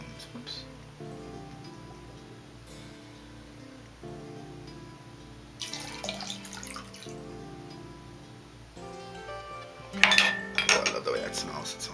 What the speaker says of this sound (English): Now, the 2 tablespoons of the rose water. This is a wooden spoon, and of course it's 2 tablespoons.